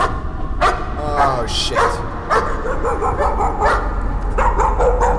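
Dog barking in the horror video game Layers of Fear: several sharp, loud barks and yips spread across the stretch over steady background, with a person briefly exclaiming.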